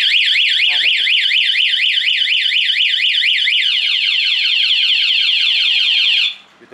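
A loud motorcycle anti-theft alarm on a Yamaha R15 wails in rapid rising-and-falling sweeps, shifts to quicker chirping tones, then cuts off abruptly.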